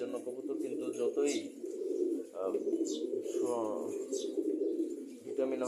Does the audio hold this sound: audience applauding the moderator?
no